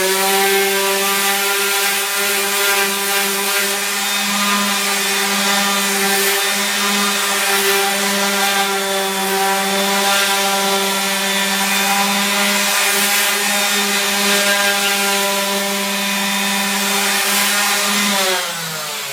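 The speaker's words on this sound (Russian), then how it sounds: "Это обыкновенная шлифовальная машинка." An ordinary electric sander works a wooden cutting board, giving a loud, steady motor whine with gritty rubbing that holds for nearly twenty seconds before winding down.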